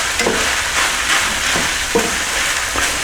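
Beef cannelloni filling with Italian seasoning and granulated sugar cooks in a pan with a loud, continuous sizzle, broken by regular scraping strokes of a spoon stirring every half second or so.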